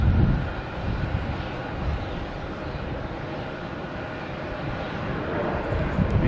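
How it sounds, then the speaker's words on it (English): Delta airliner taking off at Logan Airport, a broad steady jet-engine roar at a distance, sustained and fairly loud throughout, with no talking. "And another Delta taking off."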